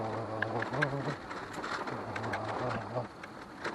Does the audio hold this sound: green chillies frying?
no